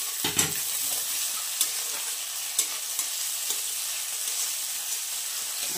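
Green chilies and tomato being stirred in a frying pan, a steady sizzle broken by a few soft spatula scrapes and taps, close and moderately loud with no talking.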